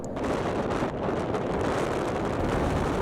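Strong wind roaring through a sandstorm in a wild desert landscape on a motorcycle trip, a loud, steady buffeting rush that fills the whole clip without letting up.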